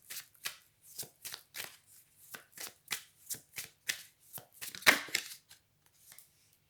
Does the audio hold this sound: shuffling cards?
yes